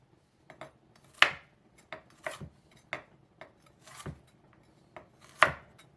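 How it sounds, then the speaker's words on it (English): Knife slicing through carrots on a cutting board, a series of crisp, irregular chops close by with short gaps between strokes, a few sharper and louder than others. "Cut the ends of our carrots and slice those."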